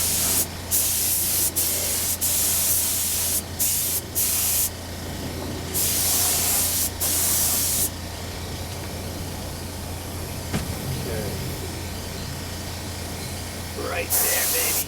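A spray gun lays clear coat onto a Honda NS250R motorcycle part in loud, close, hissing bursts of varying length, separated by quieter gaps, with a steady low hum underneath.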